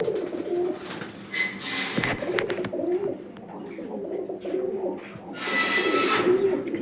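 Lahori and pouter pigeon pairs coo repeatedly in a loft, low rolling calls recurring throughout at close range, with a few brief wing flutters and movement noises.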